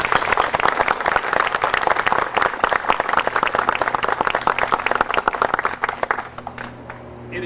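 An audience in a hall claps loudly and steadily during a dedication ceremony for a renovated Grand Army Hall, dense applause that tapers off near the end.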